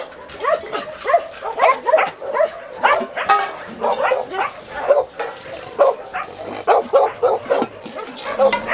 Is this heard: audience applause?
no